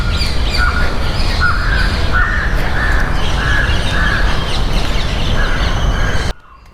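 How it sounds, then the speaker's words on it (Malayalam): Crows and other birds in Cubbon Park, a 300-acre green space in central Bengaluru: loud, close caws repeat in a steady run over a dense bed of chirping, ending abruptly. "കിളികളുടെ കളകളനാദം."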